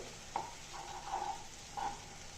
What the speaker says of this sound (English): I'm going to cook the masala in the ghee and the coconut oil for around 3 to 4 minutes at low flame